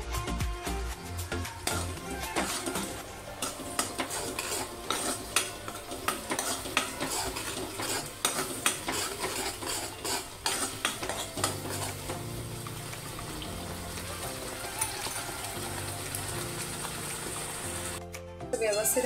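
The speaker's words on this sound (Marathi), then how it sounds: "आता हे व्यवस्थित आपल्याला ना फ्राय करून घ्यायचे, ते एकत्र असं करून घ्यायचं आणि व्यवस्थित आपल्याला हे फ्राय करून घ्यायचे" Ginger-garlic paste and masala for rajma frying in oil while being stirred, a steady busy sizzle with scraping utensil clicks throughout, close and continuous, with background music.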